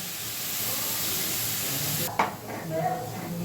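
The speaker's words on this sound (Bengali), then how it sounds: "এই যে হালকাভাবে নেড়ে নেওয়া হচ্ছে একটু নরম হতে দিতে হবে" Steady frying sizzle from a pan of bottle gourd with a sharp scrape of stirring near the end, close by and moderately loud.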